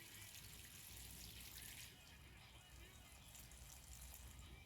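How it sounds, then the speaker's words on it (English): Water poured onto plants inside a hot allotment polytunnel, a steady close hiss of spray or trickle running the whole time without a break. "Giving it water."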